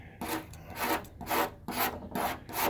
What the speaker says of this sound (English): So you can razor it off